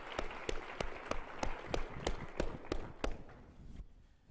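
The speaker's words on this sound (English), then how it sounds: "You can give God a round of applause if you want to." A church congregation applauds, with one sharp, evenly spaced clap standing out about three times a second over the softer crowd, before the clapping fades to quiet.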